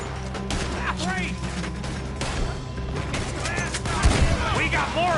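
Gunfire in Red Dead Redemption 2: scattered shots and volleys crackle through a busy battle scene, with voices talking and shouting over them and a louder cluster of shots near the end.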